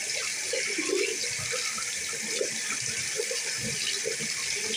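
Water from a bathroom tap runs steadily into a sink during face washing, a continuous close hiss with faint splashing and no talk.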